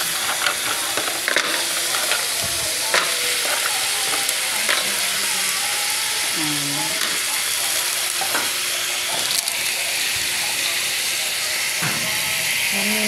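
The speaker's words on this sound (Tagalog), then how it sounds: "Lagyan na po natin yung tahong" Mussels added to a hot pan and stirred, a loud continuous sizzle and steamy hiss close up with scraping stirs and occasional clanks, voices murmuring faintly underneath.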